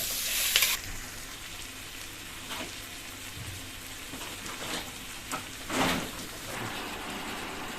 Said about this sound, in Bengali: এবার পেঁয়াজগুলো হালকা বাদামি করে ভেজে নেব